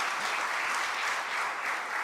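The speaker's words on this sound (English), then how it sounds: "So please give them a round of applause." Steady, even applause from an audience at a community book talk event, a continuous wash of many hands clapping at moderate distance with no voices over it.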